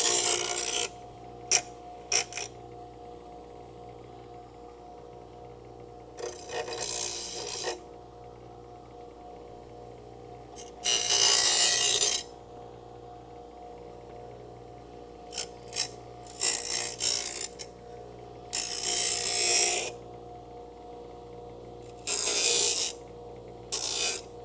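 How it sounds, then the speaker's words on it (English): Bench grinder deburring a metal part during inner rocker panel repair on a Dodge Coronet crew cab: several short harsh grinding bursts of a few seconds each, separated by quieter gaps with a steady low motor hum underneath. "I'm just putting this on the bench grinder to deburr it."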